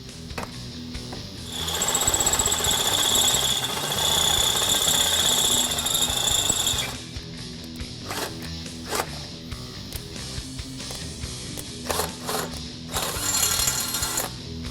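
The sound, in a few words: drilling a hole in exhaust pipe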